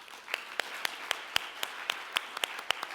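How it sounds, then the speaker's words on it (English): Audience clapping at the close of a panel discussion at a Korea and IDB partnership forum, heard as a sparse, steady round of individual claps, fairly crisp and close, with no talking over it. "Let's give them another round of applause."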